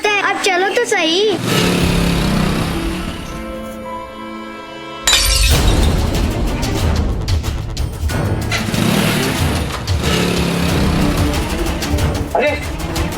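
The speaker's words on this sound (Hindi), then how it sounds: "उसने जोर से एक पत्थर फेंका और ये कांच टूट गया खिड़की का" A window pane shatters loudly when a thrown stone strikes it, a sudden burst of breaking glass and tinkling shards that cuts into a tense dramatic scene with music and voices around it.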